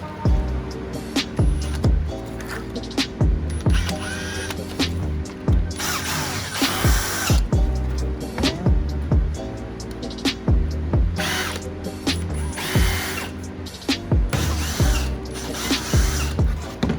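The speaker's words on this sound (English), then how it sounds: "Now we're just gonna go drill up some holes." Repeated bursts of a power drill whirring through material as holes are drilled in a table, with clicks and mechanical rattles between them, close and fairly loud throughout.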